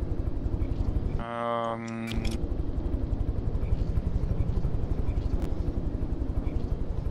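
Helicopter engine in the video game From the Depths drones loudly and continuously throughout, a steady rotor-like hum with a brief tonal shift partway through, no talking over it.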